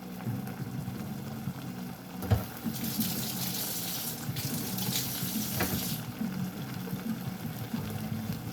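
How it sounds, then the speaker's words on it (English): Tap water runs steadily into a kitchen sink while utensils are washed, a close, continuous splashing rush that swells louder in the middle and carries on alone. "I'm gonna wash my utensils."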